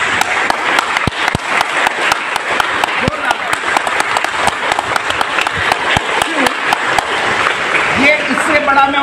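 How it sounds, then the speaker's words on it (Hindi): A crowd claps loudly and continuously for India's national cricket team, a dense steady wash of applause filling the whole stretch with a brief change near the end. "हम लोग ज़ोरदार तालियां दें हमारे इंडियन क्रिकेट नेशनल टीम के लिए"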